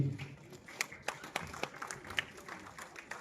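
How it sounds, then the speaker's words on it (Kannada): Scattered applause from an audience, a ragged burst of individual claps rising and thinning over a few seconds. "ಒಂದ್ಸರಿ ಜೋರಾಗಿರೋ ಚಪ್ಪಾಳೆ ಕೊಟ್ಟು ವೇದಿಕೆ ಮೇಲೆ ಸ್ವಾಗತ ಮಾಡುವಂತಹ"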